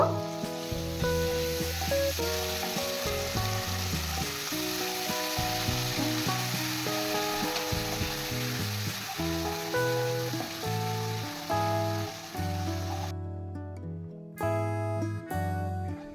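A spice paste of ground coriander, cumin and Kashmiri chili powder loosened with a little water sizzles steadily in a pan for stuffed potato curry, with stirring throughout and tuneful background music playing over it.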